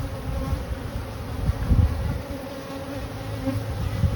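Honeybees buzzing densely around an open beehive during maintenance, a steady close hum with individual bees droning louder as they pass near.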